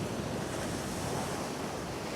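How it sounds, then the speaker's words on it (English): Ocean waves wash over coastal rocks in a continuous loud rush of surf, with wind noise on the microphone and no other sounds. "some good waves coming through now"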